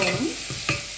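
Onions fry in a pan under a constant sizzle, with a couple of brief spoon scrapes close by.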